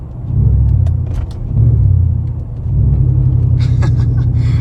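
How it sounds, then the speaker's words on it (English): A Chevrolet Silverado pickup engine roars with a deep, heavy intake rumble as the throttle opens, swelling in loud waves with a brief dip in the middle. "it is a very loud intake noise on that initial throttle for sure"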